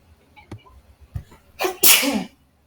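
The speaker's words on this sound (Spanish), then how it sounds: "medio estornudo." A single loud human sneeze bursts out near the end, preceded by a couple of faint breathy intakes and small sounds, in a quiet indoor room with no talking.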